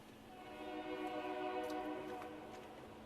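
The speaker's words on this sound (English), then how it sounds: "Hear the train in the distance. It's a commuter-ish train." A faint, distant commuter train near Seattle rumbles past with a steady, tonal droning hum that swells slightly and then eases.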